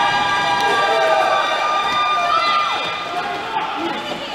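A roller derby crowd cheers and shouts after a scoring pass, a dense wash of voices and whistles under a close announcer's talk, easing off toward the end.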